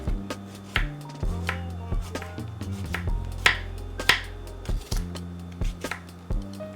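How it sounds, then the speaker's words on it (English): Knife slicing washed vegetables very thin on a cutting board while cooking a leftover seafood lasagna, a run of crisp, close chopping strokes in an irregular rhythm with brief pauses, heard alone without talk. "I washed the vegetables earlier, so I'm going to slice them up very thin."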